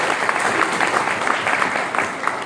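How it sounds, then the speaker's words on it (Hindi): A crowd applauds at a gathering, with dense, steady clapping sustained throughout at fairly close range and no speech on top. "उनके लिए ताली बजानी चाहिए।"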